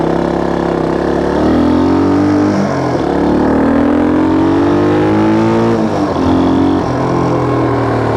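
A Honda XL175 dual-sport motorcycle engine runs loud and close, struggling to hold an idle, its pitch rising and sagging unevenly as the throttle is blipped to keep it alive.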